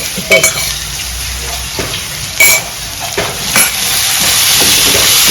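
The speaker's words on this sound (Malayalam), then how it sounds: "നന്നായിട്ട് വഴറ്റി" Curry leaves and round-cut green chillies sautéing in oil for a Kerala fish pollichathu, a close sizzle punctuated by a few sharp spatula clinks against the pan, then a louder, steadier frying hiss toward the end.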